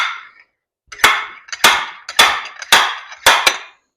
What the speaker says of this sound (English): just take the slide hammer, start hammering it